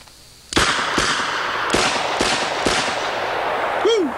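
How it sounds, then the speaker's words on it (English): A Thunder 5 revolver fired outdoors with .45 Colt and .410 shotshell loads, giving five loud, sharp reports spaced about half a second apart, each followed by a short ringing decay. "So let's shoot and let you take a look at recoil in the gun."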